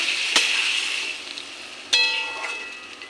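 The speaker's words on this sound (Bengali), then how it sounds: "এখন ফুটন্ত জল একটু দিয়ে দেব। মাছটা সিদ্ধ হয়ে যাক।" Boiling water poured into a pan of fish kalia, setting off a loud hissing sizzle that fades, then a second sharp splash and sizzle swell, with no talking.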